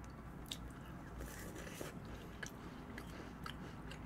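Quiet, close crunches as a crisp American cookie dipped in milk is bitten and chewed, with a handful of soft crunchy bites spread over a few seconds.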